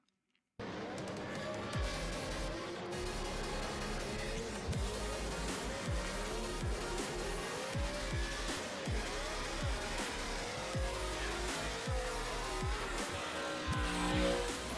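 A 2015 Nissan 370Z with a Nissan V8 engine revs and roars repeatedly in sharp bursts, rising and falling as the car drives hard, loud and close throughout.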